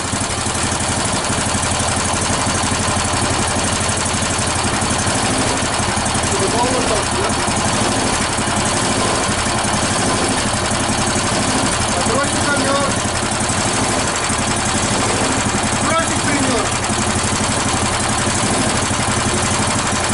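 Outboard motor on a boat named Uragan, started after a summer in storage, idling steadily and loudly close by for the whole stretch while people talk over it.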